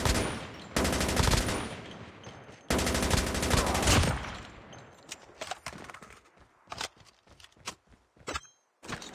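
Rapid automatic weapon fire from Call of Duty Mobile gameplay, two long loud bursts followed by scattered short shots and single cracks, with no talk.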